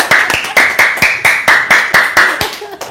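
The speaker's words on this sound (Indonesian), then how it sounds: "Tepuk tangan dulu dong." Hands clap in a loud, close, regular rhythm, about a dozen sharp claps spaced evenly over a few seconds, slowing slightly at the end.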